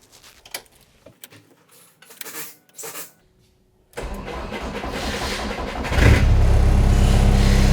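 A race car engine started with a key: a few hesitant clicks and short cranking bursts, then the engine catches and settles into a loud, steady running roar that swells louder near the end.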